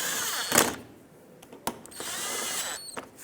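A power tool whirs in short bursts, snugging bolts on the bumper cover of a 2012–2022 Ford Focus, with a couple of brief close-up runs separated by pauses and small clicks.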